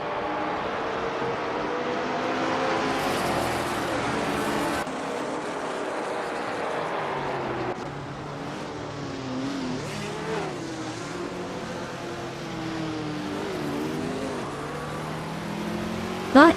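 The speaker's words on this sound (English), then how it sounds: "Bot LXEXLX90 is driving a 1969 and now MC Javelin in the vintage Trans Am class" Race cars lap in a racing video game in the vintage Trans Am class, including a 1969 AMC Javelin, with engines rising and falling through gears and passing continuously at moderate level, and a brief thump at the end.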